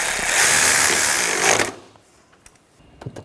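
A power tool tightens bolts on the starter of a 2009-2013 BMW 328i xDrive 3.0L inline-six, giving a loud buzzing whir for about a second and a half, then stopping, followed by faint clicks and small knocks.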